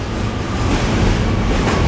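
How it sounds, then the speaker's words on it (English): A New York City Q subway train rumbles past close by, a continuous roar of wheels and rail noise with rhythmic clatter throughout. "It's a Q train right there."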